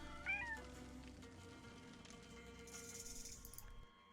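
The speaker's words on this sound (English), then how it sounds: "Is the cat back?" Cat meowing in the video game The Lost Crown: one short, faint meow near the start over quiet background game ambience and music, with a soft rattle later on.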